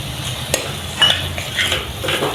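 Masala of spices and coriander powder for egg biryani fries in a pan with a splash of water, giving a steady close sizzle broken by a few scraping stirs of a spoon.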